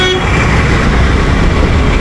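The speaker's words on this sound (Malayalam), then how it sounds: "ഹോണടിക്കാതെ ഇരിക്കാൻ പറ്റൂല കേട്ടോ" Busy street traffic in Chikpet, Bangalore, a constant loud roar of vehicles with horns honking, close and dense throughout.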